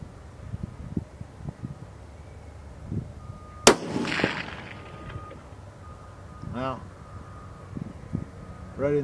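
A single sharp, loud rifle shot from a Bergara B14 Wilderness carbon .308 cracks out near the middle, followed by a brief echo, while people talk quietly before and after.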